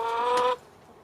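Backyard chickens giving a short burst of clucking and cackling, close and fairly loud, then trailing off into quiet.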